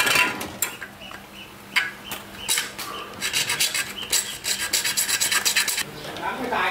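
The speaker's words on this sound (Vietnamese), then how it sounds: "Bây giờ chúng ta sẽ cưa đi" A hacksaw cuts through metal in quick, rhythmic back-and-forth rasping strokes, close and harsh, with brief pauses between bursts, while building a brushless 12V fan.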